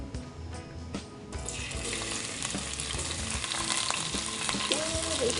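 Garlic fries in oil in a pot on medium-high heat for a fish curry with curry leaves, a steady dense sizzle that swells after the first second and continues alone.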